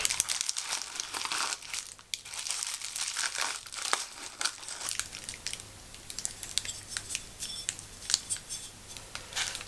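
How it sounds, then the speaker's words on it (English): Plastic packaging pulled off and unwrapped by hand, close crinkling and rustling with sharp crackles and snaps in irregular bursts, fairly quiet and intimate without speech. "Let's take out this plastic."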